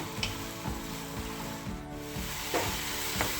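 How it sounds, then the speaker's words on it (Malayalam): Chopped onions, three large ones, sautéing for mutton biryani, with a continuous close sizzle and rhythmic scrapes of stirring across the pan, no talk. "പിന്നെ നമുക്ക് ചെറുതായിട്ടൊന്ന് വഴറ്റിയെടുക്കാം."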